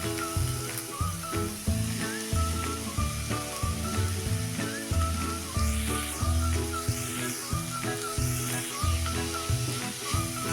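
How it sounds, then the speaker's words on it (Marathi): Fenugreek greens sautéing in a pan for methi pithla, a constant hissing sizzle with scraping stir strokes, moderately loud and accompanied by background music. "भाजी चांगली मऊ होईपर्यंत परतून घेऊया"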